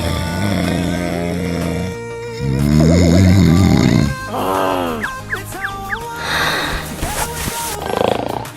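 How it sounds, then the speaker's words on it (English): Loud, rasping snoring in long rattling pulses, then a few shorter grunting snorts and clicks, close and harsh, with voices mixed in among the snores. "snoring is too loud."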